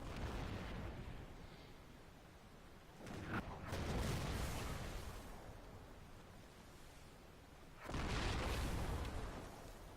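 KV-85 tank shells fire and whoosh through the air in World of Tanks: two broad, rushing swells of noise, one near three seconds and another near eight, over a quiet rumbling background.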